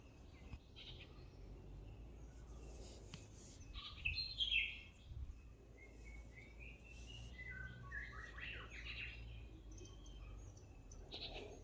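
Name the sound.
birds chirping at sunset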